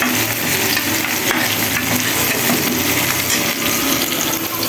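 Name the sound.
frying garlic in a pan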